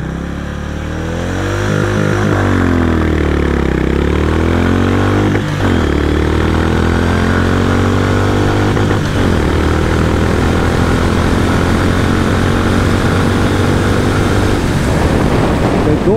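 Honda CB 350 RS motorcycle accelerating hard at high revs, its loud engine climbing in pitch through several gear changes with brief dips between shifts, close to the microphone and with no talking.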